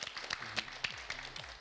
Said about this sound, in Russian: хорошо, аплодисменты.